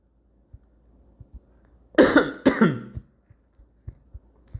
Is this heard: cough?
yes